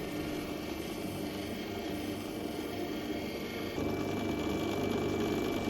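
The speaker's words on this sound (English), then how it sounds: "I'm on my 230 grit centered wheel doing this." Opal chips are ground on a 230 grit centered lapidary wheel, giving a steady, moderately loud motor whir with a gritty grinding layer that thickens slightly toward the end, with no talk.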